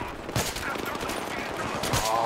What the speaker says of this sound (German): Boah, schießen die übel